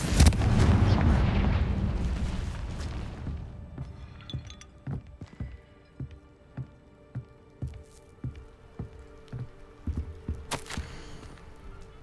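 A Confringo fire spell bursts in Hogwarts Legacy: a loud, rumbling explosive blast fills the first few seconds, then decays into a string of sharp crackling and popping impacts that keep going at irregular intervals.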